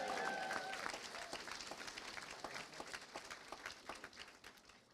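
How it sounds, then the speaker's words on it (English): Wedding guests at Glasgow Science Centre cheering and applauding for the couple, a full, even burst of clapping that gradually thins and fades toward the end, with no talk over it. "Can we give them a big cheer for that,"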